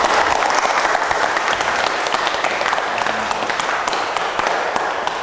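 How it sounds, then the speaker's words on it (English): An audience at a talk on early Korean Buddhism applauds a speaker with steady, dense clapping that stays loud throughout and eases off slightly at the end. "So why don't you give a clap to him"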